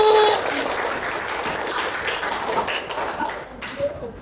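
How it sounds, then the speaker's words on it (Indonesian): Classroom students clapping for a classmate during a lesson, a dense burst of applause from a group of children that thins out and fades over a few seconds. "tepuk tangan untuk Rifki"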